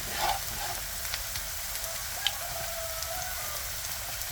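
Coriander leaf fritters made with chopped onion, gram flour and green chilli fry in a pan, giving a steady dense sizzle with faint pops, close and even throughout, and no talking.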